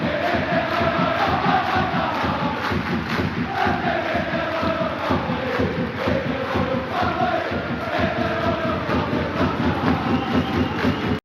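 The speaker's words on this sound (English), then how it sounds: "Over a 1-minute applause for the Queen." A huge outdoor crowd at the Queen's funeral claps and roars in a sustained, dense wash of noise that holds steady for the full eleven seconds, with voices rising and falling inside it.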